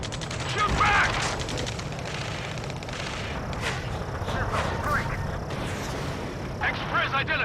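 Distant rattling gunfire in Ace Combat 7 with scattered bursts under constant radio chatter and battle noise, voices talking throughout.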